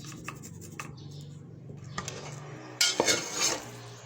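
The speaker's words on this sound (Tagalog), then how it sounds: "pagkatapos ito ay hahalo-halo natin siya dito sa giniling na karne" Chopped ginger is stirred into ground meat in a bowl, giving soft scraping and mixing sounds close up, with a louder clatter of utensil on the dish near the end.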